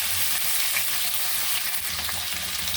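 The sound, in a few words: cauliflower and potatoes frying in fish-frying oil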